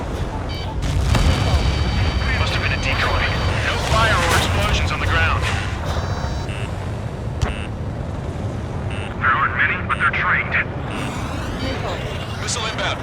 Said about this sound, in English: Dropping the bomb now.